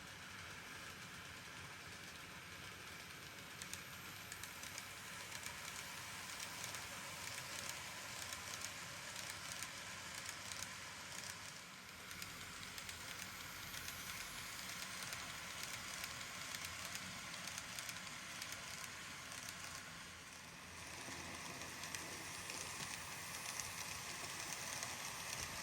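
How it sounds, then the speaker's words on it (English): A modern model 8-car multiple unit runs on a home layout, giving a steady, faint whirring rumble that carries on evenly for about 25 seconds with no voices. "The first time running this 8-car unit on my layout."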